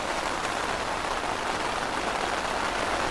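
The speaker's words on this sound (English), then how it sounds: "that's a bit of a downpour" Heavy tropical rain pouring down steadily at a Caribbean beach, a dense, loud hiss of drops drumming on a surface with no pauses and no voices.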